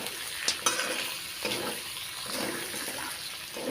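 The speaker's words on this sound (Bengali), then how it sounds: "আদা বাটাটি দিয়ে আমরা একটু নেড়ে চেড়ে নেব" Ginger paste is stirred in a hot pan, scraping spoon strokes over a steady sizzle of frying, close and moderately loud with a few sharper clinks.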